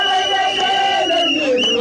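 Kenyan fans cheer their athletes, a loud, dense crowd of shouting and whooping voices filling the scene with sustained, wavering calls.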